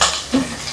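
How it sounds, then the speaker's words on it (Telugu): Fish frying in a pan and being stirred, with a soft sizzle under a brief scrape and clink of a utensil against the pan. "మంచిగా ఫ్రై చేస్తున్నావు"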